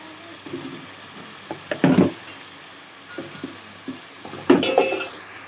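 Ginger garlic paste added to mutton frying in a pot for gongura mutton, with a faint sizzle and a few scattered scrapes and knocks of a spoon stirring against the pan, close but quiet, no talk.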